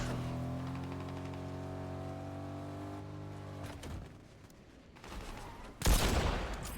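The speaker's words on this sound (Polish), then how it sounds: "odgłosy strzałów." Fortnite gunfire crackles in short bursts after a steady droning hum fades, ending with a loud sharp volley.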